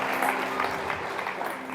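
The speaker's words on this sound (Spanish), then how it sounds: "Denle un aplauso al Señor" A congregation at a Spanish-language church conference applauds, a steady blended wash of many hands clapping at a distance with a faint steady hum beneath it, lasting under two seconds.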